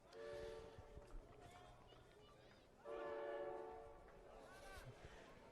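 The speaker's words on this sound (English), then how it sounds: "the salute from one of the freight trains going past" Freight train horn sounding as the train passes near a football ground during a match, with long loud blasts at the start and again mid-clip over crowd and ambient noise.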